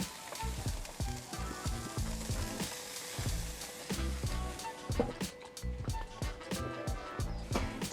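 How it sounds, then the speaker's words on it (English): Fat bubbling and rendering on a rotating herb-basted lamb on a Weber Q rotisserie grill, a continuous dense sizzle with rhythmic knocking from the turning spit, close and steady, with faint talk underneath. "That beautiful outer crust and that fat bubbling, rendering away"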